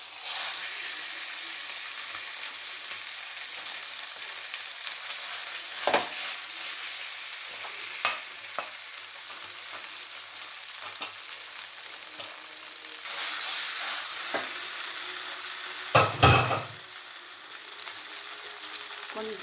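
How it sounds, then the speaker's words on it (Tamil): Pongal mixture being stirred in a pan, heard as a steady low sizzle with occasional spoon scrapes and knocks, the loudest near the end, close by with no voices. "இதெல்லாம் போட்டு ஒரு கலக்கலக்கி விட்டுட்டு மீதி நம்ம பாதியாக வச்ச அந்த பொங்கலை அதில் போட்டுருவோம்."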